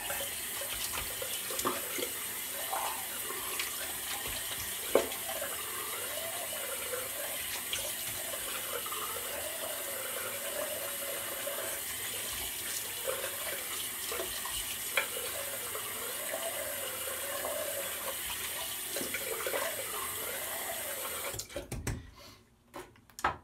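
Tap water running steadily into a sink for rinsing after a shave with Proraso, a continuous close hiss with small splashes, cut off abruptly near the end.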